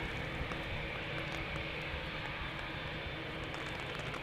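Departing from Amsterdam Schiphol, a TUI Boeing 787 Dreamliner gives off a steady, moderately faint jet roar with a constant broad hiss and no audible voices.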